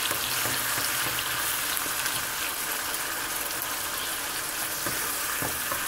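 Masala paste frying in oil in a pan over a medium flame for egg masala, a steady dense sizzle that holds evenly throughout, close and loud, with no voices.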